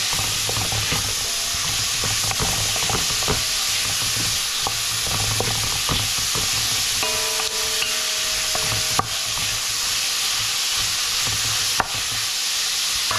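Meat sizzles and fries in a hot pan while being stirred for laing, with continuous loud frying hiss and repeated scraping stir strokes, close and steady throughout, no voices.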